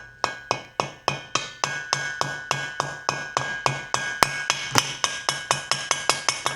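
A plastic bodywork hammer strikes a stuck part on a dismantled engine head about twenty times in a steady rhythm, each knock sharp and close and ringing briefly.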